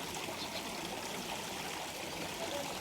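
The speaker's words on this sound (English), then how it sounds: "Nice little waterfall. It's a nice feature to be on the pond." A small garden waterfall spills into a shallow backyard fish pond in Surin, Thailand, giving a steady, soft, even trickle and splash of running water that stays constant throughout.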